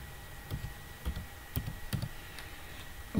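Buttons are pressed in a quick, uneven series on a bank cash machine keypad while a PIN code is entered, a string of close, light clicks and taps without talk.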